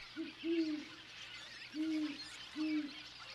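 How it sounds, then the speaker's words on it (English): A great horned owl hoots from cliffs in North America in a clear, deep series of three to four hoots with pauses between them, heard fairly near over a faint background hiss. "Great horned owls share these cliffs."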